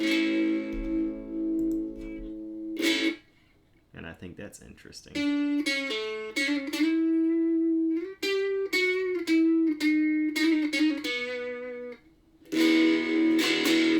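Electric guitar played through a homemade Ruby amplifier, sounding jangly with only light distortion, strummed chords and sustained notes ringing out with brief pauses, and a voice talking briefly in between.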